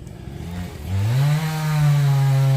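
A small grass trimmer engine revs up close by and settles into a loud, steady buzzing drone, in a garden.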